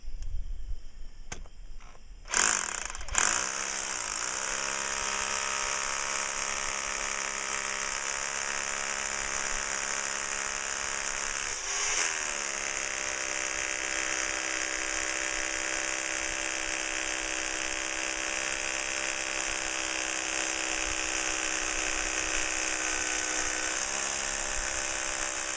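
A drill boring a hole into rock for an anchor bolt, a steady high whirring buzz that runs loud and unbroken for over twenty seconds after a few brief starts.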